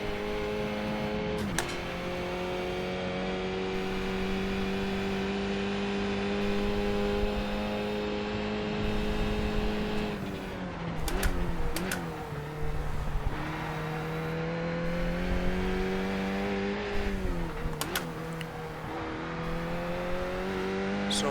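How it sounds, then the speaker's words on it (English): A racing car engine in a sim-racing game holds a high, steady drone, then from the midpoint repeatedly hits the rev limiter with sharp stutters and dips as it sits between gears, loud and close, no talk. "I think I'm riding the limiter a little bit too much"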